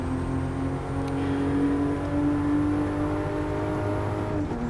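A Toyota Supra race car in a racing game lapping Laguna Seca, its engine holding a steady, loud droning whine with a slight pitch rise and a shift near the end, with no talk over it.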